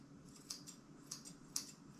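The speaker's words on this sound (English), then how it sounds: "I'm just gonna go ahead and trim the edges with some scissors." Curved grooming scissors snip a dog's fur during a trim, three or four crisp, close metallic clips spaced irregularly against a quiet room hum, with no talking.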